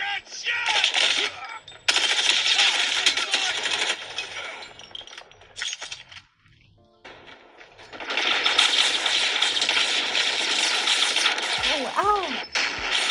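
Bursts of rapid automatic gunfire from a mobile multiplayer shooter game, dense rattling volleys broken by a brief lull, with game sound effects and some talk mixed in.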